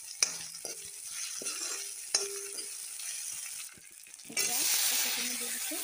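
Ginger garlic paste fries in a hot pan with a steady sizzle. A spatula clinks and scrapes against the pan, and the frying swells louder near the end.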